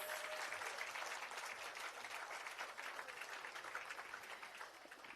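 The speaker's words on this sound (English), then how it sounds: "Una can clap them one more time, please." An outdoor crowd claps steadily at a bridge opening ceremony in Spring Village, Spanish Town, St Catherine, following a performance; the applause is dense and loud throughout, fading slightly toward the end.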